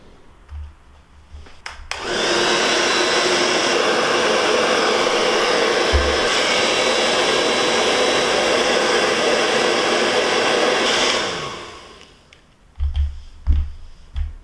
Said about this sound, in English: something like a hairdryer or a heat gun and warm up the plastic.